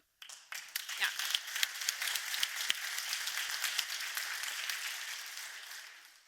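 An audience at a women-in-tech conference breaks into applause that starts abruptly, holds as a dense, fairly faint wash of clapping with a few sharper claps near the start, and carries on for several seconds without talk.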